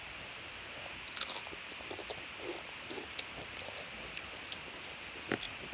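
Crunchy bites of a Sun Chip, a few soft crisp snaps and chewing sounds spread over a quiet stretch, close and fairly faint.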